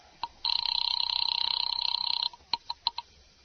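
An old-style telephone in a house rings with a long, buzzing electric bell trill lasting about two seconds, followed by several short separate rings, loud and close.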